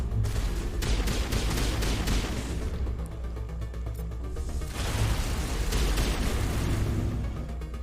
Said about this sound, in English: Guys are shooting at the wall.